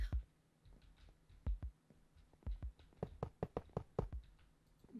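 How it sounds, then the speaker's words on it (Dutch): Heartbeat sound effect in a Minecraft hide-and-seek game: soft, low thumps repeat in quick pairs, growing denser and faster toward the end, fairly faint but clear against a quiet background. "Ik zag hartkloppingen."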